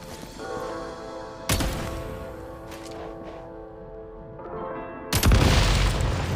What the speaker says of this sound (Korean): 폭발물을 사격해 폭파시켜서 길을 열어보세요.